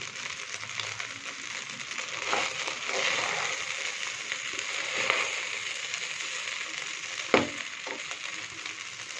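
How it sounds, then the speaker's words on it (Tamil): Rice for tomato fried rice is stirred in a hot pan under a continuous crackling sizzle, with scraping strokes of the spoon and one sharp clack near the end. "நல்லா ரைஸ் சூடாகிற வரையும் சாதத்தை கலரி எடுத்துக்கலாம்"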